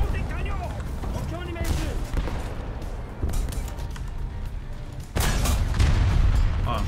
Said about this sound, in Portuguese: Os caras tão atirando em mim aqui.